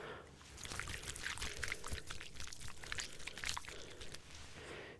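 ASMR water trigger toys pour water in a continuous close, wet gush with bubbly splashes and trickles that thin out briefly near the end, heard alone without talking.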